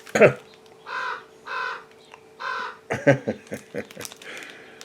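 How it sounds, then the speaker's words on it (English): Loud, rasping raven calls repeat in a steady rhythm, four or so drawn-out croaks followed by a quicker burst of shorter ones, close by. "It's lovely to hear that creature, though, isn't it?"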